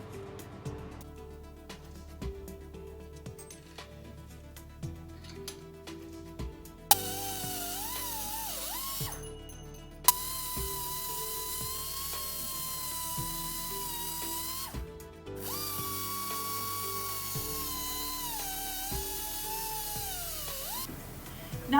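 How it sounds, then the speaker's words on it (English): A high, whining power tool cuts metal silverware clamped in a vise in three long bursts with brief pauses between, its pitch sagging under load, loud and close. "we're going to clamp them in our vise and we're going to cut them where we marked them."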